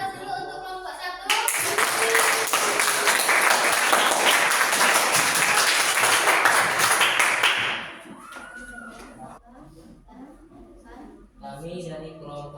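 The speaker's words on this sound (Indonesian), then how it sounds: "Kita beri aplaus dulu untuk kelompok 1" A classroom group claps for group 1 with dense, loud applause lasting about six seconds. It then cuts off, and voices and chatter follow.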